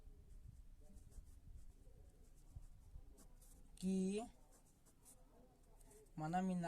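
Pen scratching on paper during a handwritten math solution, soft and intermittent, with a voice speaking over it and brief louder bursts of speech.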